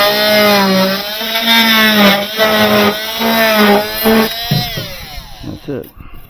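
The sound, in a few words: multi-tool cutting wood for deck repair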